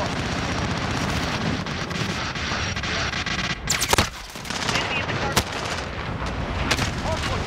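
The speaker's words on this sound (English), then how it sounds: "They're shooting a million things on me right now." Dense gunfire in Call of Duty: Modern Warfare multiplayer, with rapid automatic bursts and sharp explosive cracks that run almost nonstop. A few louder blasts stand out near the middle and toward the end.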